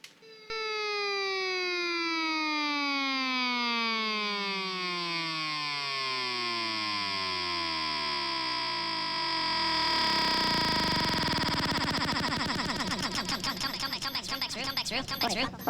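A synthesizer patch with a siren-like tone: one bright, harmonically rich note glides steadily downward over several seconds, then wavers and turns gritty and distorted toward the end. It stays loud and continuous throughout.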